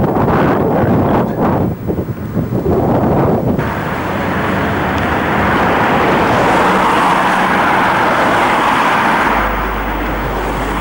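Loud, steady wind buffeting the microphone, a continuous roaring rush with gusty swells near the start and no voices.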